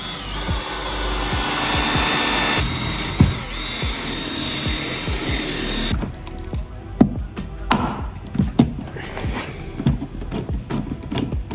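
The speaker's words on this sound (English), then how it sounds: "But now we know where to drill in the metal, and then we can put in the rivets." A power drill works into the metal of an E36 car body, making rivet holes during a body kit install. Steady whirring runs first, then rougher, choppy grinding bursts with sharp clicks, close and fairly loud.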